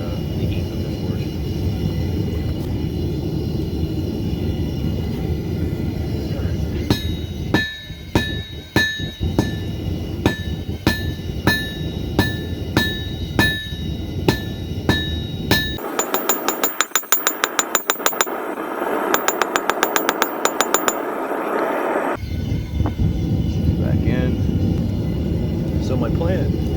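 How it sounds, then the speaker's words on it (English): A small forge heats rebar with a continuous, loud roar, broken by sharp metallic ticks and clanks and a stretch of brighter hissing midway. "This little forge heats it up really quickly."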